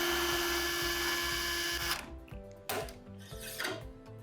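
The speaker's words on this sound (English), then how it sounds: "we will drill in the pin" A surgical drill drives a guide pin into the shoulder socket during a stemmed anatomic shoulder replacement, a steady loud whine that cuts off near the end and gives way to brief bursts of drilling.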